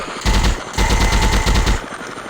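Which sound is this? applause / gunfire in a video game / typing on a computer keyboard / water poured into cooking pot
gunfire in a video game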